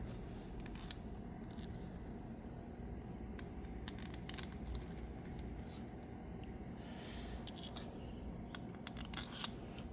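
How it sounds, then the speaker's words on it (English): Faint metallic clicks and light clinks as bolts are moved onto a new Mitsubishi Outlander AC compressor, scattered irregularly over a steady low background hum, with no talking. "I'm gonna transfer the bolts to the new compressor."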